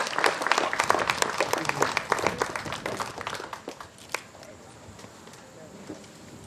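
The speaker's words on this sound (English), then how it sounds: "Would you please clap for her?" A church congregation at an Anglican Sunday service breaks into dense applause, many hands clapping together in a lively burst that gradually thins out and fades toward the end.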